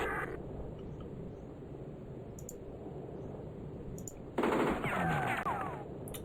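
Gunfire rattles in Spellcross: a faint steady mechanical clatter runs throughout, then a louder, close burst of shots and clicks breaks out near the end.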